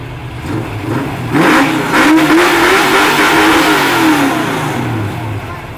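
A Ford Mustang engine revs up loudly and close at an outdoor US car meet, its pitch rising and holding before easing back down to a rumbling idle.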